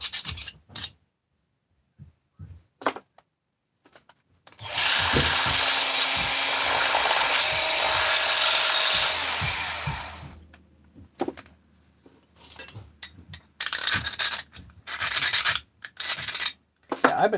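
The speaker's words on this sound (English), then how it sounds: "Just going to deburr it" Deburring a crankcase part for a 268 engine with a hand tool, a loud continuous rasping scrape lasting several seconds, framed by quieter scattered clicks and handling noises before and after.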